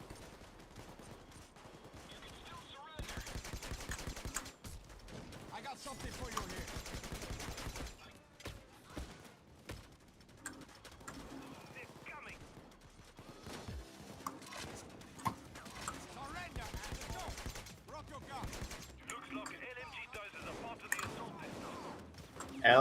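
Payday 2 video game combat: bursts of light machine gun fire from armored bulldozer enemies rattle in rapid volleys with short gaps, mixed with other gunshots, loud and continuous across the scene.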